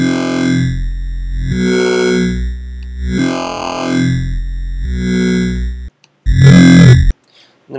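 A gritty FM synthesizer talking bass from Ableton's Operator drones in long notes whose tone sweeps and warbles like a vowel-shaping voice, then cuts out with a short burst.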